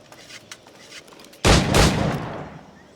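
A single loud gunshot from a flintlock-era firearm in a pirate-age action game bursts in midway, trailing a long rumbling decay, after a quiet stretch of faint background ambience.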